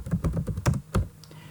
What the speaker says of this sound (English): I can type in my review